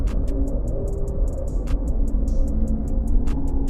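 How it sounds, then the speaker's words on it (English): AI-generated deep cosmic hum and deep bass sound effect, heard as a loud, dense low rumbling drone that carries steadily throughout, with faint sharp ticking clicks scattered above it. "I'll ask it to create a deep cosmic hum, followed by a deep bass sound effect."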